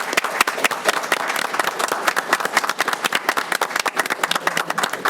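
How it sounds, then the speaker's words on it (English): Crisp, close applause from a city council meeting audience honoring commended citizens, individual sharp claps audible within a fairly sparse, steady patter. "If we could, get a round of applause."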